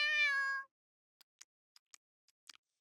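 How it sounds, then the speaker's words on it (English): A pet cat looks up and gives one clear, close, inquisitive meow, then falls quiet apart from a few faint clicks and taps. "looks up and meows inquisitively at me"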